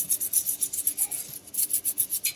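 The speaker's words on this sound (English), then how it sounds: "let's keep brushing at it and getting all the gunk off" A brush scrubs gunk off an old cabinet hardware knob in quick, even back-and-forth strokes, close and crisp, about a dozen rasping passes with no talk.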